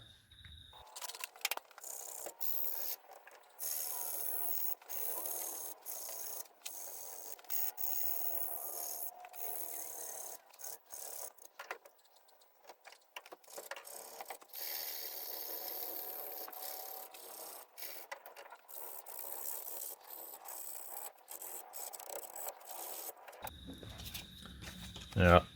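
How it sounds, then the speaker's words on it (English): Hand sanding of a wooden swimbait with 120 grit sandpaper, a close, continuous scratchy rasp of strokes against the wood, with a few thumps at the end. "that was too hard trying to sand it in the vise. Bit of 120 grit."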